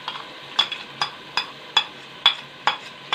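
Tomato paste and garlic ginger paste frying in oil in a pot for chicken biryani, with sizzling broken by regular sharp scraping stirs about every half second, close and distinct.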